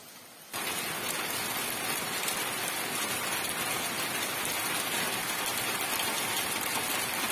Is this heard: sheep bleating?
no